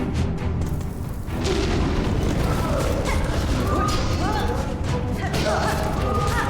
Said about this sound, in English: Why is everything explosions?